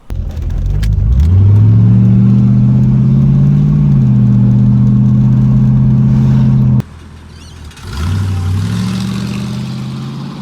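C4 Corvette with an LT1 V8 and its muffler chopped off, revving loud and close: a deep, throaty roar climbs and holds, cuts off abruptly, then swells again into a second sustained rev.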